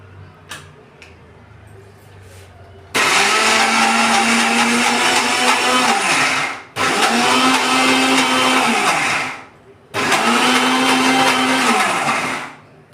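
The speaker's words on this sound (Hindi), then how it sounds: "मिक्सी को एक साथ नहीं चलाएंगे, रुक रुक के चलाएंगे।" A mixer grinder grinding moong and chana dal whirs loudly in three separate bursts of several seconds each, stopping briefly between runs, with quiet clicks before it starts.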